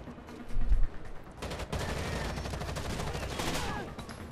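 Dense, continuous gunfire from snipers and mounted guns in Rainbow Six Vegas 2, in the Old Vegas garage area, with rapid overlapping shots that stay at a steady, moderate level.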